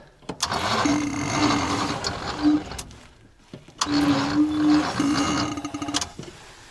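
Two bursts of an old ZIL crane truck engine, idle for twenty years, being cranked by the starter, a labored mechanical whirring with a steady hum, each lasting a couple of seconds without catching.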